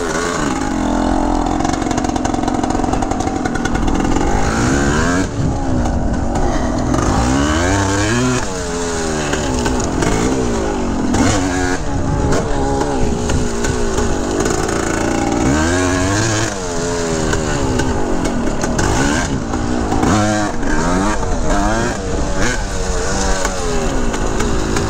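A 1982 Yamaha YZ250 two-stroke dirt bike engine rips and revs continuously while riding, loud and close, rising and falling through throttle changes.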